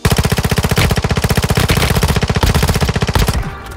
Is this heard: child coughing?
no